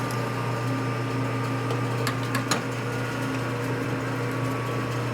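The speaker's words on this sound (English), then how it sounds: "So we're drilling the hole for the tap." A drill bit bores a tap hole in a part held on a lathe during a 1979 93ci Harley shovelhead motor rebuild, a steady mechanical hum running throughout with a few faint ticks.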